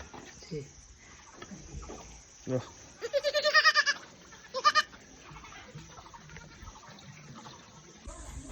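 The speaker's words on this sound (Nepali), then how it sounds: "बाख्राको पाठा" A young goat, a kid at a farm shed in Kalimpong, bleats in a few short wavering calls, fairly close, over quiet outdoor background with faint talk and water sounds.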